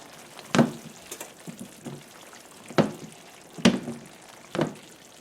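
Fish in a lemon butter sauce sizzling in a pan that is shaken up and down, giving a soft steady fry with a few sharp bursts of sizzle and clatter as the pan moves.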